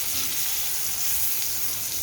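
Stuffed bitter gourd frying in a pan, an even, moderately loud sizzle that holds steady from start to finish with no voices.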